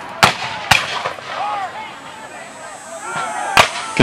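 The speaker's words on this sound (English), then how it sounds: "There's some Confederate artillery." Confederate artillery cannon fire at a Civil War reenactment muster in Jackson, heard as sharp, distant booms that crack out at intervals over a steady outdoor background with faint talk.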